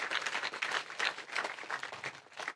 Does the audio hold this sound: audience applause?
yes